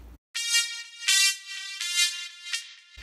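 A bright, buzzy synthesized horn from the Nexus plugin plays a few sustained notes in the upper register, clear and close, with no voices.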